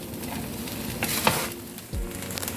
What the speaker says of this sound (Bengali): ভাতের মধ্যে এখন সবজিটা দিয়ে দিচ্ছে। এখন সবজিটা ভাতের সাথে মিশিয়ে নিচ্ছে।